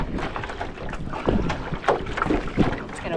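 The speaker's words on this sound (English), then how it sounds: "That was a big gust of wind at my back." Gusts of wind buffet a runner's microphone outdoors during interval training, heard as close, rumbling, uneven bursts of blustery noise that swell and fade repeatedly, with no talking.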